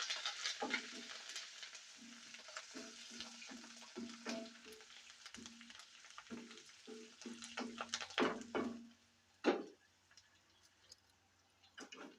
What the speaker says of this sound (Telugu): పోపు అయితే వేగింది ఇప్పుడు ఇందులో కరివేపాకు వేసుకుందాం